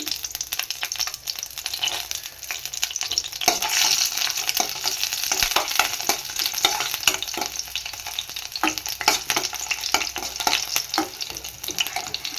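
Garlic fries in hot oil for a leafy greens stir-fry (soppu palya), a continuous crackling sizzle broken by frequent scraping stirs. Nobody speaks.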